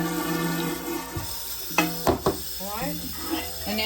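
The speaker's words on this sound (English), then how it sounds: "We're going to let that water fill up one more time on that side" Water runs into a kitchen sink as salad greens are washed, a soft continuous rush broken by a few clunks and splashes, with a voice talking over it.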